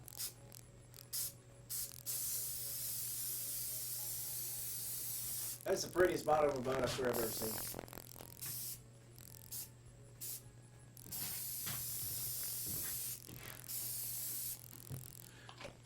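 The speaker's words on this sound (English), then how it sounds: "now we're ready to start applying the spray paint." Spray paint hisses onto the bottom of a Royalex canoe in short bursts, close and fairly quiet, with a steady background hum and a brief stretch of talk midway.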